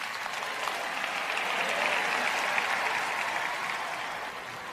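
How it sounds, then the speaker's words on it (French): A church congregation at a French-language sermon breaks into steady, moderately distant applause that swells slightly in the middle and holds for several seconds. "Applaudissez plus fort que ça"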